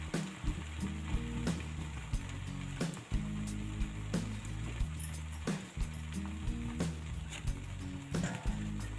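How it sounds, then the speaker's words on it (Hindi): Semolina rolls cook covered over a low gas flame, giving a steady soft sizzle and frying crackle throughout, with faint clinks and lid or utensil knocks recurring at intervals. "गैस की जो फ्लेम है उसको बहुत ही स्लो कर दीजिए, जिससे कि ढक के इसको थोड़ा सा हमें पकाना है।"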